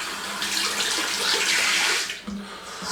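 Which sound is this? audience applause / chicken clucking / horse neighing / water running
water running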